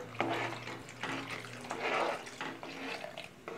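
Coconut milk poured into thickening ragi milk for a ragi halwa, giving a steady liquid splash and trickle close up that runs for several seconds without talk.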